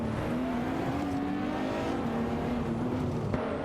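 Nissan GT-R Nismo racing cars in a video game race, engines droning at high revs, a continuous whirring roar with subtle pitch shifts as the cars drive on.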